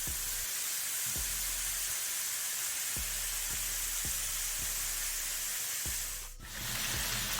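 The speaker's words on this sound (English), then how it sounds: "just leave some space in between them so they can fry" Chicken party wings fry in hot oil with a constant bright sizzling hiss, steady and close, while soft regular low thumps tap along underneath.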